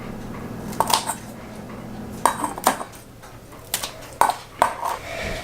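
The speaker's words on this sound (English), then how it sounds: "I got my scissors, and now I'm just going to cut some at the tip like this" Kitchen scissors snipping the tips off broccoli florets, a few short crisp snips spaced out over a few seconds with light clinks in between, close and fairly quiet.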